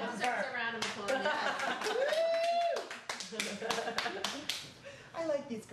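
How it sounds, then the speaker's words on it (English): A small audience breaks into scattered clapping amid whoops and chuckles, with voices talking and laughing over sharp, uneven claps. "That deserves a round of applause."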